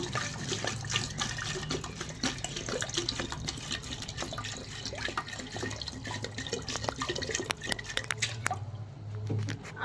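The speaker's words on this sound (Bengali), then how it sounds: "এবার আমি জল দেব পরিমাণ মতন" Water pours steadily into a pot of vegetable khichdi with tomato, chili and bottle gourd, a continuous close splashing and gurgling that runs for about ten seconds with no talk.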